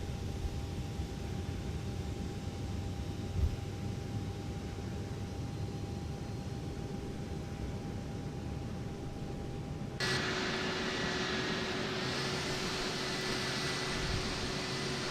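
Simulated A320 with IAE engines spooling up during start in X-Plane 12: a steady broadband whine and rush with a faint tone, then an abrupt step to a louder, brighter roar partway through, heard alone without talking.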